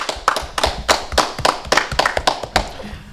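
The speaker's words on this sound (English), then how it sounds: "Let's clap it up, boys" A small group of men clap at a car dealership, a quick burst of close, uneven handclaps with no talking over them.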